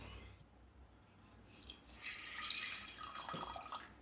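Water pours steadily into a metal pressure cooker, a bright splashing rush that builds midway and continues, close by and fairly quiet, with no talking.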